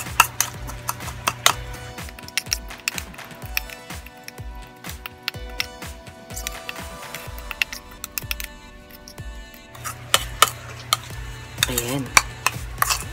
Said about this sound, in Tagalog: So, mix lang po para mag-create siya ng paste.